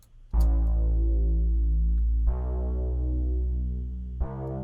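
80s-style synth bass following piano-chord bass lines, three long sustained notes each struck with a strong attack and slowly fading, loud and up close with no talking.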